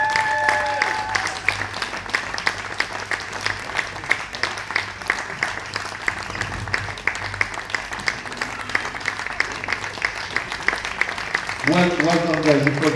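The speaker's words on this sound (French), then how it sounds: "On l'applaudit bien fort." Crowd applauding the winner of a televised bowling masters final, steady clapping from the audience heard beneath a presenter's voice and music, with a brief musical flourish near the end.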